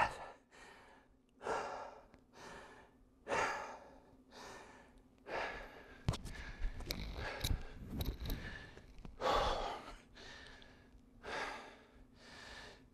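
Heavy breathing after an exercise circuit: a series of loud, close, rhythmic exhales, sighs and gasps repeated every second or so, with scuffling movement in between.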